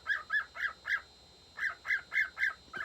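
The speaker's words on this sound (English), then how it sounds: "Sometimes my bird like starts tweeting whenever I start talking." A pet cockatiel gives a run of bright, evenly spaced chirps in two bursts with a short pause between, close and clear over a quiet room.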